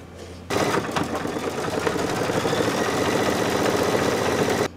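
An embroidery machine stitches a Kimberbell lamb design, starting after a short quiet moment into a rapid, continuous mechanical rattle that runs steadily to the end.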